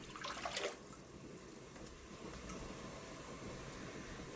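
Water and white vinegar being poured to make dill pickle brine, a steady liquid rush with a brighter splash at the start, then an even, continuous stream close by.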